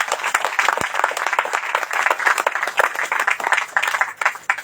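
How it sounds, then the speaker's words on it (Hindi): A church congregation claps steadily, many hands together in a dense, continuous round of applause that carries on without pause. "हम खुशी से परमेश्वर के ताली बजाते हैं"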